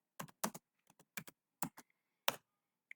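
Fingers type on a computer keyboard, entering VirtualBox into a browser search bar: a quiet, close run of quick clicky keystrokes in short uneven bursts with brief pauses between them.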